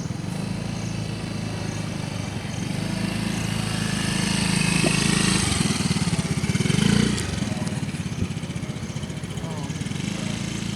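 A motorcycle engine runs steadily close by, swelling briefly as it revs before settling back to a loud idle, while a child is taught to ride.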